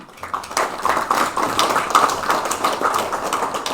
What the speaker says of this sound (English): I think Sarah and her organization deserve a round of applause